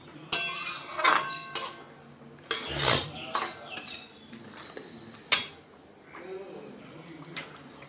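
Salted chicken pieces being mixed in a metal pot, with scattered scrapes, clinks and knocks of a spoon against the pot in irregular bursts, fairly close, and a voice speaking intermittently in between.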